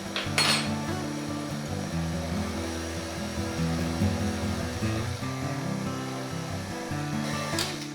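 A stand mixer works flour into pumpkin cookie dough, a steady motor hum with clinking and scraping of the beater against the bowl running throughout, close and without talk.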